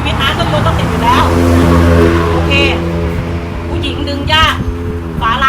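A small gasoline engine with an old-style recoil starter runs with a steady, buzzing drone close to the microphone. Someone talks over it almost the whole time.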